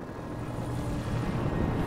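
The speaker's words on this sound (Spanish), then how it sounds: "¿Un helicóptero? ¿Dónde, coño?" Helicopter in the Alan Wake video game, a steady broadband rotor and engine drone holding at constant loudness throughout, with no voices over it.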